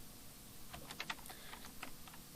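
Keys clatter on a computer keyboard in a quick run of faint, close clicks, with no talking, while a closing curly bracket is typed during CSS coding.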